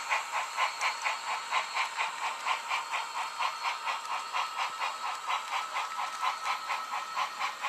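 An HO scale model of a Sacramento Northern train rolls past with a steady, rapid rhythmic clicking and a hissing wash, holding an even loudness throughout.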